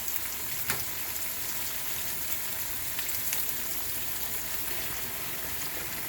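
Celery hitting a pan of glazed onions gives a steady, even sizzle of frying, close and continuous with no voices over it.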